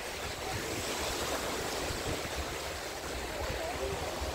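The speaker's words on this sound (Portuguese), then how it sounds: "O mar está invadindo aqui a região aqui, tá vendo? O mar está invadindo." Sea waves wash and surge over the shore at Itamaracá, Pernambuco, on the way toward the old fort, a soft, continuous watery rush heard from close by with faint wind, no voices.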